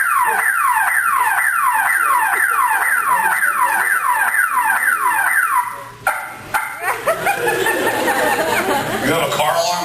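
A car alarm rigged to a shower curtain blares a repeating falling siren pattern, then cuts off abruptly, giving way to barking and yipping dogs and lively voices.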